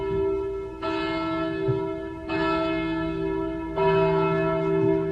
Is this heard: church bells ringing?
yes